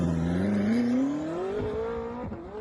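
A 1600 hp Koenigsegg with turbos accelerates hard, its engine note climbing steadily in pitch over a couple of seconds, loud and fairly close, with no talking.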